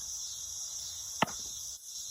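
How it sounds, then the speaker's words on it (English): Cicadas drone in a continuous high, shrill buzz throughout, with one sharp knock partway through and no talking. "these cicadas they're the biggest hecklers I have ever seen"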